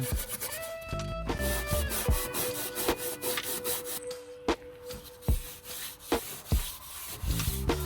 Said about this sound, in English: I thought I would just take care of some of these rust spots. A little bit of Scotch-Brite and metal can.